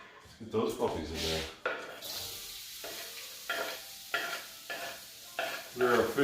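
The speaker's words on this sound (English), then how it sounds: "We're officially frying." Chicken and shrimp pieces sizzle in a hot pan for a stir-fry with bok choy, onion, peppers and pineapple, a steady frying hiss broken by repeated scraping stirs and a few close clatters.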